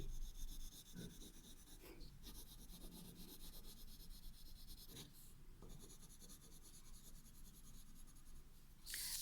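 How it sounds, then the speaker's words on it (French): A pencil colours in a woodpecker drawing on paper, giving a steady, close, dry scratching and rubbing that runs throughout with slight pauses, no voices over it. "Donc je vais bien colorier autour des cercles."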